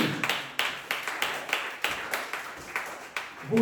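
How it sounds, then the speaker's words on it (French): A church congregation at a Tuesday worship service applauds for the Lord Jesus, loud rhythmic group clapping in even bursts of about three per second, close and alone. "Applaudissez pour le Seigneur Jésus."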